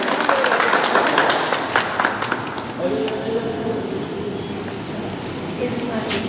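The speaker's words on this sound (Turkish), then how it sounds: "Alkışlar mıyız lütfen?" Wedding guests at a Turkish celebration clap steadily through a reverberant hall, a continuous mid-level patter with music and talk underneath.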